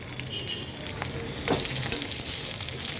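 Boiled potatoes and cabbage frying together in a pan, a dense close sizzle that swells slightly with occasional clinks and scrapes of stirring.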